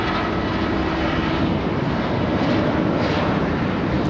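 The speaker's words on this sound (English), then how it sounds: "We have the king of the skies. We have an A380." An Airbus A380 airliner at LAX, a loud, continuous jet engine roar that holds steady and fills the whole stretch without any voices.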